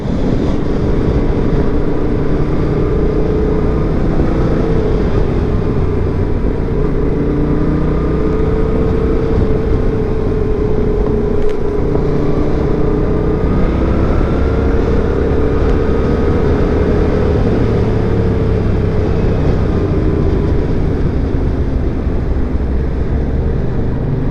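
Steady wind-buffeted engine drone from a Yamaha XSR700 motorcycle on its first ride home, recorded on the move with constant rumble and rushing air throughout, no speech.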